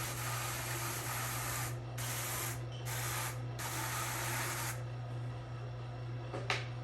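Wool batt being burnished on a drum carder: close, loud hissing brushing strokes in repeated bursts over a steady low motor-like hum, fading to quieter rubbing near the end.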